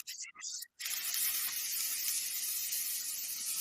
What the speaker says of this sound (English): that's your steak on the grill. It's just wow, that sizzle.